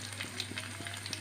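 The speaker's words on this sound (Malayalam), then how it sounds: "വെളിച്ചെണ്ണ നന്നായിട്ട് ചൂടായിട്ടുണ്ട്. നമുക്കിതിലേക്ക് വെളുത്തുള്ളി ചെറുതായിട്ടരിഞ്ഞത്," Chopped garlic fries in hot coconut oil, a brief close sizzle with small popping crackles scattered over a steady low hum, and no talking.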